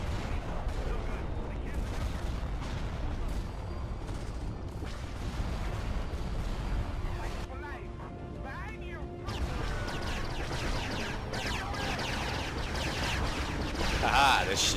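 Weapons fire from a Star Wars video game battle rattles on throughout, dense volleys and bursts of blaster shots mixed with mechanical noise, with someone talking over much of it.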